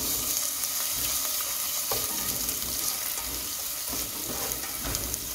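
Ginger paste frying over moderate heat in a pan for vuna khichuri, a dense steady sizzle close up with occasional stirring scrapes and light utensil knocks, no talking.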